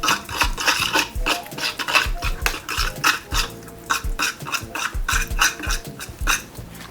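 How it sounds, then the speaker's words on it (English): A spoon stirs salt and black pepper into a Dijon sauce for salmon, scraping and clinking against the bowl in quick, irregular strokes, close and distinct. "A little bit of salt. A little bit of black pepper. And mix this all up together."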